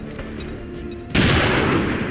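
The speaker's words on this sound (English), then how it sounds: "Bombs away!" Bombs explode in the X-COM video game: after a second of quieter game ambience with faint tones, a sudden loud blast erupts into a sustained rumbling, crackling roar that slowly tapers.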